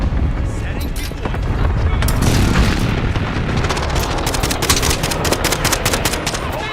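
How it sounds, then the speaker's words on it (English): Call of Duty Modern Warfare gameplay: a precision airstrike tears through with dense, continuous explosions and rattling gunfire. The barrage is loud, close and chaotic, with voices faintly mixed underneath. "Friendly precision airstrike on the way."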